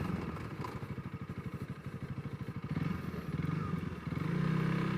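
A Honda CRF300L dual sport motorcycle chugs through deep cross ruts, its engine thumping in a rapid pulsing rhythm that lugs down and then rises to a steadier drone.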